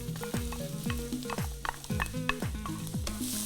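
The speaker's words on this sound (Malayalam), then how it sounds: "ഇതിനകത്തോട്ട് ഒരു ഇച്ചിരി എണ്ണ ഒഴിച്ചേച്ച് ഇതിനകത്തോട്ട് നമ്മൾ അരിഞ്ഞു വെച്ചേക്കുന്ന ഉള്ളി ഉണ്ടല്ലോ ഇതിനകത്തിടുക." Chopped onions fry in a little oil, a steady broadband sizzle broken by repeated stirring scrapes and clinks in a regular rhythm, close and loud, with no voices.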